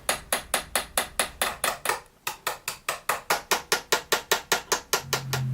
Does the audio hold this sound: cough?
no